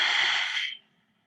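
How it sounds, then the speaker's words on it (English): Audible yoga breath in an interactive class, a single long breathy exhale with a soft hiss that holds steady and close, then cuts off abruptly, leaving near silence. "Breathing with sound."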